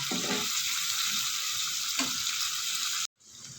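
Tofu and pork ears sautéing in a pan give off a steady, close sizzle and frying crackle, with a couple of stirring scrapes before the sound cuts out briefly and resumes quieter.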